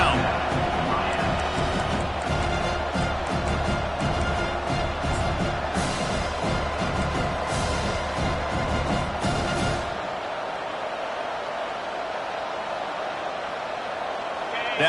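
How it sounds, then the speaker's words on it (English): A stadium crowd in a football video game roars steadily as the defense lines up on third down, with a commentator talking over it. The din holds for about ten seconds, then drops to a quieter hum. "Decibels rising as the crowd gets behind this defense on third down."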